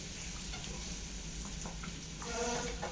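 Spinach sambar ingredients sautéing in a pan, a soft continuous sizzle with faint stirring scrapes beneath a low hum, quiet and close.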